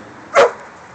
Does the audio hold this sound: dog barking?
yes